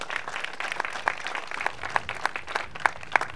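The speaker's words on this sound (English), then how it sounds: "Please, let's applaud them, students here." An audience at an outdoor college groundbreaking ceremony applauds, with rhythmic, distinct claps from a modest crowd that grow slightly sharper toward the end.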